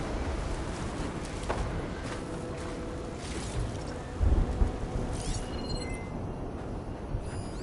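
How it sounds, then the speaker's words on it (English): A thunderstorm rolls through Horizon Forbidden West, with steady rain-like hiss and a deeper rumbling swell of thunder midway, sustained throughout at moderate level. "I can outlast this storm."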